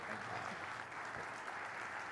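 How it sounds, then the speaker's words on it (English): An audience at a security professionals' talk gives a round of applause, a dense steady wash of clapping heard faintly from a distance. "another round of applause for Steph, please"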